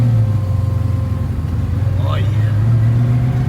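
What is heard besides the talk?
carbureted car accelerating in first gear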